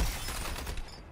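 Artillery fire from the video game Suicide Squad: Kill the Justice League, a loud, dense burst of rapid gunfire that fades over about a second.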